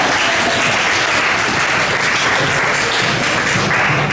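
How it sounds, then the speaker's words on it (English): Audience applause at an interfaith iftar dinner: loud, dense, continuous clapping from a room full of people, with no gaps. "give me a clap."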